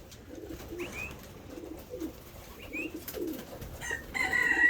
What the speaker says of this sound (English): Got chickens everywhere.